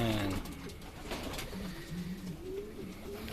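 Racing pigeons cooing in a breeding loft as a pair is matched, soft repeated coos close by over a steady low background, with no talking.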